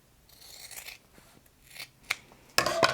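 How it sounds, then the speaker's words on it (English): Scissors trim about an inch off the side of a Miele air clean filter, giving scattered snips and rasping cuts that end in a louder, longer crunching cut, with no talk. "It's a little bit too big like this, so I will trim it a little bit. I think I'll just cut off like an inch off of the side."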